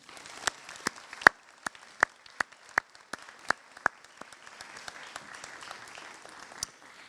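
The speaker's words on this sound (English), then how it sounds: "Can we please give them a round of applause?" A handful of separate claps sound at a graduation celebration, sharp and spaced roughly every half second, then thinning out over a quiet background, suggesting a sparse or distant audience.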